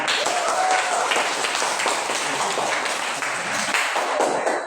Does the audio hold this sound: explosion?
no